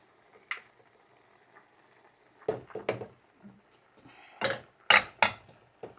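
Sliced carrots go into a pan of cooking chicken for a cream of mushroom dish, heard as scattered clinks and knocks of utensils against the pan, sparse at first and then a cluster of sharper taps near the end.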